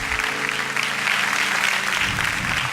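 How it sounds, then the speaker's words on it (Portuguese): A church congregation applauds during a worship service, a full, steady burst of clapping from many hands in a reverberant hall, with a sustained musical tone underneath. "Aplauda Jesus, que Ele merece."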